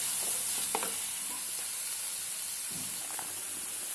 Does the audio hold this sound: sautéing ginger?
yes